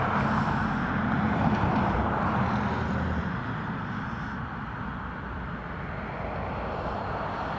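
Steady broadband roar of an ATR turboprop airliner from Donegal at Dublin Airport, a continuous engine drone heard from the field that holds level and eases slightly toward the end, with no voices.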